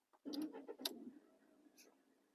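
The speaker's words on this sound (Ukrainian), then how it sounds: "Вона завелась, все потухло, можна починати рух." A Volkswagen Golf 4 wagon's engine starts with a brief cranking burst that catches and settles into a low, quiet idle, close and fading within two seconds.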